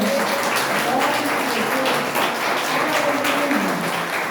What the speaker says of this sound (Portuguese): As palmas louvam o Senhor nessa noite